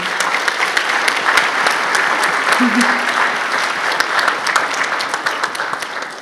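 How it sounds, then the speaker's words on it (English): A lecture audience at the Weil Lecture on American Citizenship with poet Ada Limón breaks into loud, sustained applause, many hands clapping densely and steadily throughout. "Please give yourselves a round of applause."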